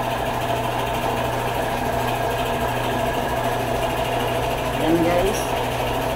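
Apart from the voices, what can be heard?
spray painting machine running on plywood door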